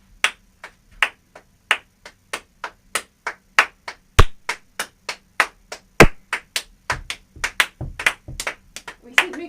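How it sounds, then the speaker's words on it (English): A small group claps in a rhythm exercise, starting as sparse separate claps and then speeding up into denser, slightly ragged claps that are sharp, close and fairly loud. "We should be clapping together."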